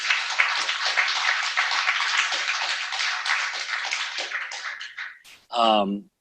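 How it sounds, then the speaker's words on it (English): An audience at a Node.js developer meetup gives a round of applause, a steady, even patter of many hands lasting about five seconds, then tapering off before a short voice is heard. "let's give them a round of applause"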